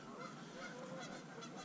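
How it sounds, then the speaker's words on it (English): Faint geese honking in the distance at a small town pond, a few calls drifting over a steady background hum. "nice and calm, except for the geese."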